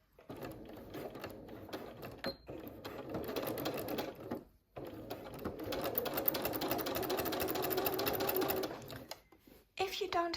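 Sewing machine fitted with a walking foot stitches rag quilt fabric, a fast steady mechanical whir running for several seconds, pausing briefly, then resuming. A voice speaks over it.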